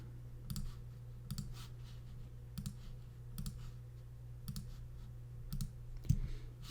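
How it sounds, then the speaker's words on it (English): Crisp computer mouse clicks land one at a time in a quiet room, about eight sharp, spaced clicks while items are selected, with no talking. "I'm going to click on each one of these."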